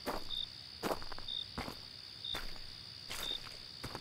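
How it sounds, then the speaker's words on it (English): At night in a state park, crickets keep up a steady high chirping while boots thud softly on the ground in a few muffled footsteps, quiet and close with no talking. "all we can hear is the chirping of crickets, the muffling sound of our boots hitting the ground"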